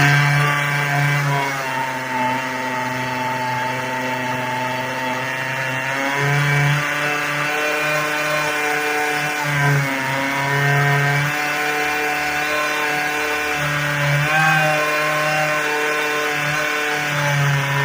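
A Husqvarna string trimmer engine running on 24-year-old kerosene buzzes continuously and loudly up close, its steady high-pitched drone wavering slightly in speed, with no talking.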